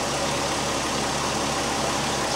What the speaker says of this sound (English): Alright, I'm going to continue to let this engine warm up.